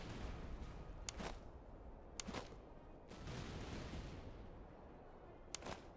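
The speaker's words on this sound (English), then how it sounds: "That was an amazing first volley." An infantry rifle volley rings out in the Master of Command game: a few sharp, distant cracks spaced about a second apart over a steady battlefield hiss.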